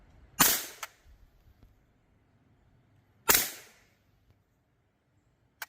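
A B&T SPC9 9mm submachine gun fires two sharp, loud single shots about three seconds apart, each with a brief ringing tail, followed by a faint click, with no talking.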